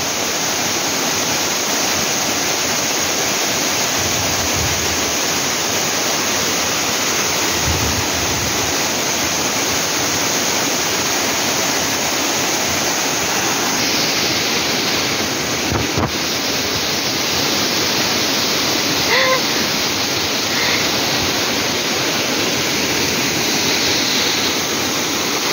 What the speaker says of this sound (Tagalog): Malakas ang tubig ngayon.